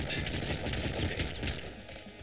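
A slugger and a machine gun fired together in Nuclear Throne, producing rapid continuous gunfire bursts at steady moderate loudness, densely overlapping with no pauses.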